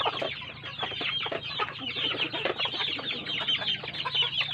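Flock of backyard chickens clucking busily at feeding time, a dense overlapping chorus of short calls at steady close range with no talk.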